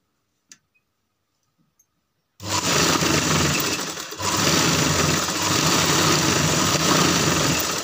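A sewing machine stitching fabric for a box-pleat frock: after a quiet opening with a few faint clicks, the motor kicks in with a loud, steady whirring drone that dips briefly once before running on evenly.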